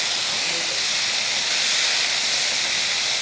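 Broad beans with potato fry in a pan with a steady, loud hiss of hot oil, continuous sizzling that holds for a few seconds.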